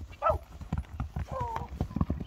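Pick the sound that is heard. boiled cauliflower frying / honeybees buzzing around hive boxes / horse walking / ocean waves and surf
horse walking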